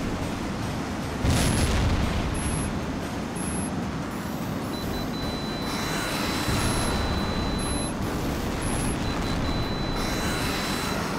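Explosions hit ground targets in Tom Clancy's H.A.W.X., an F-18 combat flight game, with a deep rumbling burst rising over a steady roar of jet noise and short, repeated high beeping tones.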